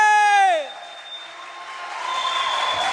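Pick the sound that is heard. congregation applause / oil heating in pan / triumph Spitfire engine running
congregation applause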